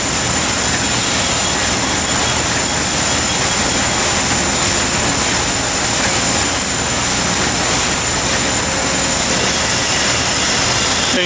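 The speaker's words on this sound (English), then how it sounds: "This STC is electric driven. Spins one way and then it'll reverse and spin the other." An electric-driven STC dip spin machine whirls a basket to fling off excess paint, running one direction then reversing; a loud, steady mechanical roar and rattle fills the space continuously with no pauses.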